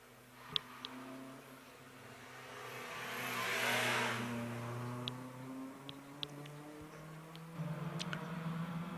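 A light Lotus Elan race car at the Shelsley Walsh hill climb revs hard through the gears, its engine note rising and swelling as it passes nearby, then fading into a distant climbing drone with occasional sharp clicks.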